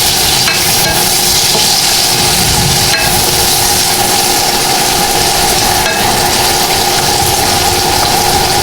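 Bean sprouts, carrots and red bell pepper stirred and sautéed together in a pan, a steady close sizzle with scraping stir strokes running throughout, no talking.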